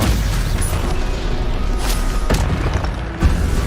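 Stupefy spell cast in Hogwarts Legacy, a dense rumbling magical burst layered over steady game noise, with a sharper impact thump near the end.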